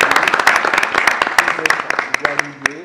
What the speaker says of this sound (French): J'aimerais qu'on applaudisse pour notre invité.